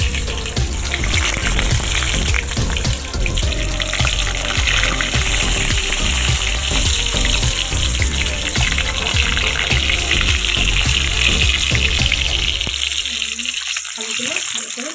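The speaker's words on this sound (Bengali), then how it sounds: "আলুগুলো ভালো করে লাল লাল করে ভেজে নিচ্ছি" Whole boiled potatoes frying in oil for biryani, a dense steady hiss of bubbling oil that runs loud and unbroken, then thins out near the end.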